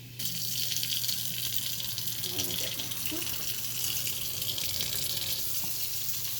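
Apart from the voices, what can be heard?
water running from a sink faucet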